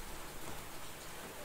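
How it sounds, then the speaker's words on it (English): Steady rain in the game Duskers falls in a dense, even hiss of drops, soft and continuous with no voices. "it's currently raining at the moment"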